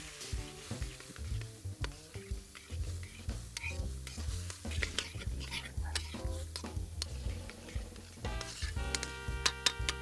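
A spoon stirs tomato prison sauce in a pot over a wood fire outdoors, steady scraping and clinking against the metal with a soft sizzle underneath, close and continuous.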